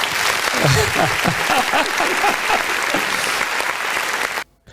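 An audience claps steadily for several seconds at a career talk event, with a dense, close burst of applause and a voice speaking over it before it cuts off abruptly.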